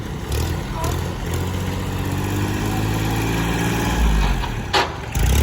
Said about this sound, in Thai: รถไถเล็กของเรา เพิ่งออกไปจากอู่นะครับ